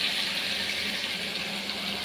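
Water poured from two bowls into a pot of vegetable, egg and soya biryani, a steady continuous splashing pour with no voices.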